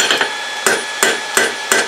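Hammer strikes on a hand-forged metal cross, adding hammer marks: five sharp, evenly spaced blows ringing close and loud, with no talking.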